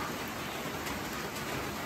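Rain falls steadily outdoors as an even, close hiss of dense drops with no breaks or voices.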